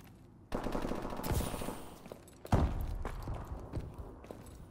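Bursts of rapid automatic gunfire from the video game Call of Duty: Advanced Warfare, loud and close, with a sharp onset after a brief lull and a second heavy volley midway, trailing off into scattered shots.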